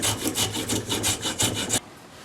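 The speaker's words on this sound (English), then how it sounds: "I'll give it enough of a planing to take some of the ugly out of it" Hand plane shaving wood on a coffee table build, a steady run of about ten rhythmic, rasping strokes close by, then sudden near-silence.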